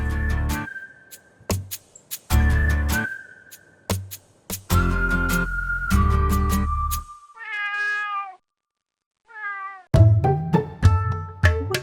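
A cat meows repeatedly, loud and close, with several drawn-out cries in a row and a few brief pauses between them.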